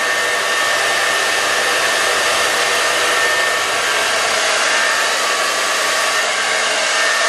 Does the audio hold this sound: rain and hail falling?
no